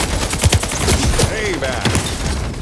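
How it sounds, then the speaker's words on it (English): Rapid video-game gunfire in a last-man-standing match, bursts of shots crackling over a busy, loud battle mix with voices talking. "Why are you shooting me?"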